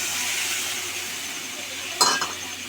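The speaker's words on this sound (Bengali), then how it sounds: "এবার দিয়ে দেবো জল।" Water is tipped into a pan of Bengali fish-curry spice paste fried in oil until the oil separates; a steady sizzle is cut by one sudden loud hiss and splash, then settles back to bubbling.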